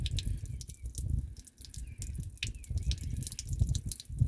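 Water draining out of a rig during maintenance, plain water with no coolant, trickling and dripping steadily in close, uneven splashes with no one talking.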